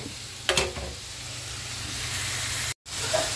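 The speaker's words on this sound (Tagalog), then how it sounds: "Gisahin lang natin at tatakpan natin saglit." Vegetables for pakbet sauté in a hot pan with a steady close sizzle and hiss, a brief stirring clatter near the start and a short cut to silence near the end.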